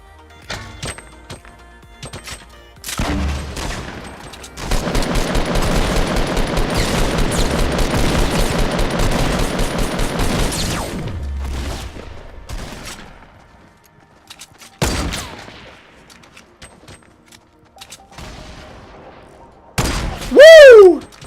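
Fortnite battle royale combat: a few scattered shots, then a long dense burst of rapid automatic gunfire lasting several seconds, followed by isolated heavy sniper rifle cracks and a sweeping game sound at the end, loud and close.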